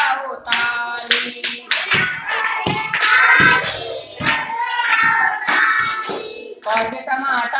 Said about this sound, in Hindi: यहाँ का घर है खाली बस बजाओ ताली